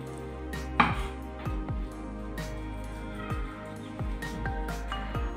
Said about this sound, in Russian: Большое филе нужно нарезать тонкими пластинками.